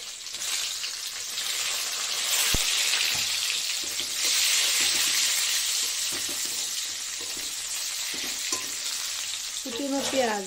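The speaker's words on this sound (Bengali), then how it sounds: "এই যে দেবো হলো কুচনো রসুন, এই যে কুচনো রসুন, তারপর দিয়ে দেবো হলো কুচনো পেঁয়াজ" Chopped garlic and onion hit hot oil already tempered with cumin and dry chili, bursting into a loud steady sizzle with stirring scrapes, a sharp clack, and a few bubbling crackles near the end.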